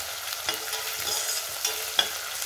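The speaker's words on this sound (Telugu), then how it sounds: "కొద్దిగా బ్రౌన్ కలర్ వచ్చే వరకు నేను ఫ్రై చేసుకుంటున్నాను" Spinach and flat beans for a curry frying in a pan until lightly browned: a steady close sizzle broken by several sharp scrapes and clicks of stirring, with no voices.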